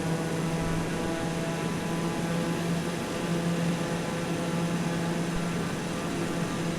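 Steady loud drone of a TBM 930 single-engine turboprop climbing at high power right after takeoff with gear and flaps retracting, a constant propeller and engine roar filling the whole stretch with no talk.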